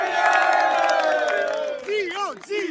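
A dense crowd cheers and shouts in sustained, overlapping voices at a Napoli football celebration on the seafront promenade, loud and close, with the voices rising and dipping in waves toward the end.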